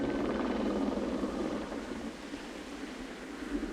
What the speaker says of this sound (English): there's a helicopter flying over and above